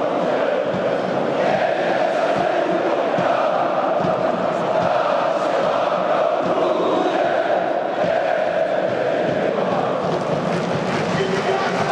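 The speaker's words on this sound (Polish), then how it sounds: "Na sektorze najwierniejszych fanów zawisło sporo flag i przez całe spotkanie prowadzono doping." Football supporters chanting and singing in the stands of a Polish Ekstraklasa stadium crowd of nearly 24,000, a dense continuous roar of voices with a steady rhythm and no break throughout.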